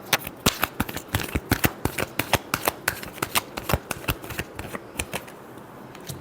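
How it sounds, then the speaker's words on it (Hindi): Tarot cards are shuffled by hand in a quick, even run of crisp riffling snaps that carry on without a break. The sound is close but fairly soft, with no one talking. "Last shuffle."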